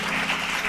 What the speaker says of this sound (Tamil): கைத்தட்டுங்க ஒரு காமெண்ட்